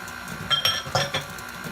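An egg for a pound cake is tapped against a mixing bowl, giving two or three faint, sharp clinks in a quiet kitchen.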